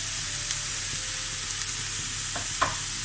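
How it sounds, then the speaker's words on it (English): Chopped vegetables and aubergines sauté in a hot pan, with a steady close sizzle, a few faint utensil clicks and a soft stir near the end, and no voices. "So I want to allow that to saute for a bit. I want the aubergines to cook down especially."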